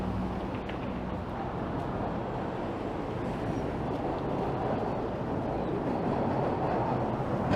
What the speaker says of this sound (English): And you can hear a subway train rattling by.